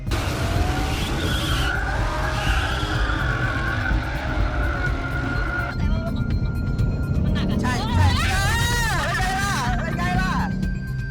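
Ford Mustang GT 5.0 tyres squealing and skidding as the car spins, loud wavering screeches with engine noise, while a voice talks over it throughout.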